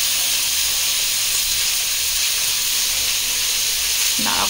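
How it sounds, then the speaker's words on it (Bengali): Chicken manchurian frying in a pan with soy, tomato and chili sauces, giving a steady, close sizzle and hiss that holds even throughout, with no talking. "এবার এগুলোকে ভালো করে ভাজবো"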